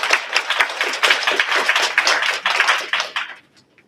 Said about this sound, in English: If we can give TCST another round of applause.